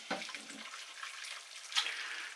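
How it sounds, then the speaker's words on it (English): Hot water pours into a crock pot in a home kitchen, a steady splashing trickle with a brief louder gush near the end, close by and alone. "I'm just putting that now into my crock pot. And I'm going to get some, top that up with hot water."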